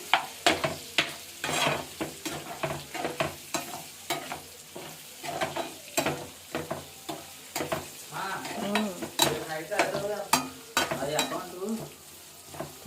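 Pork gongura curry is stirred in a pan after a little chili powder goes in, with a rhythmic series of close spoon scrapes and knocks over a constant background sizzle.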